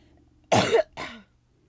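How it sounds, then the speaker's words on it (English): Two sharp coughs from one person, the first harsher and longer, the second shorter, loud and close against a quiet background. "I gotta cough again"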